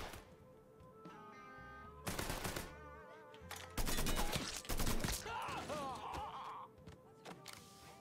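Gunfire in the video game Mafia III, loud bursts of rapid shots and single cracks in several clusters, mixed with game music and effects.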